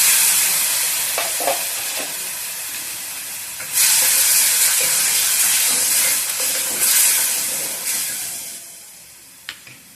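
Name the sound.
tamarind water poured into hot anchovy curry pan, sizzling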